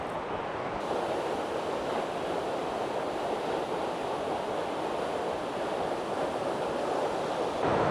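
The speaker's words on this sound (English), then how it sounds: "Waterfall number 5." Water rushes steadily down Double Falls in a canyon in Oregon. The roar is broad and constant, with no break and no voices.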